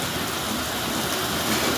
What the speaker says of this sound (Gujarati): આજે લાઠીમાં ધોધમાર વરસાદ હુપડાની ધારે વરસી રહ્યો છે